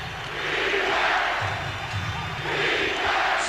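A basketball arena crowd at a Sacramento Kings versus Minnesota Timberwolves game roars and cheers, urged on by Vlade Divac, a dense sustained swell of many voices that rises and dips over a few seconds.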